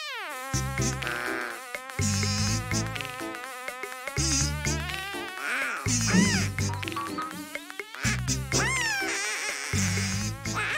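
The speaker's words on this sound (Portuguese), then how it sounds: "É só uma abelha." Cartoon bee buzzing in Pocoyo, a loud, wavering, high-pitched buzz that comes in repeated bursts over a low rhythmic musical backing.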